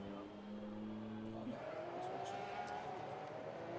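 A Lamborghini V12 race car pulls away on a track, its engine note rising steadily as it accelerates into the distance, heard at moderate distance against ambient circuit noise.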